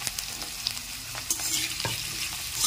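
Potatoes fry in about three tablespoons of oil in a pan, a steady close sizzle broken by occasional scrapes and clinks of stirring, with no voices.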